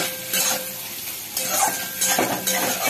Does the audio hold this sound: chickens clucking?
no